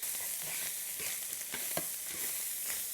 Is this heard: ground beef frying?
yes